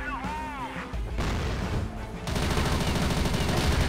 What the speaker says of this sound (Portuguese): 30 tiros nos peitos do cara, o cara não morre, mano